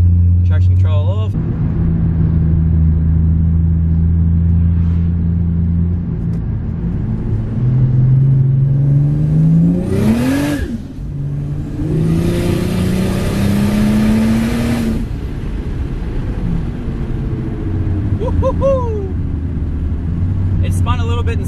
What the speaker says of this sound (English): you guys will be able to hear if it's spinning anyway.